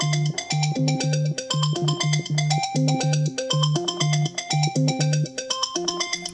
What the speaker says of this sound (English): that's the ringtone with the vibration I've just created